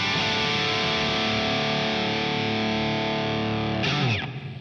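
An electric guitar sustains a chord through a plate reverb with a distorted amp tone, ringing loud and steady for about four seconds before the chord is cut and the reverb tail decays.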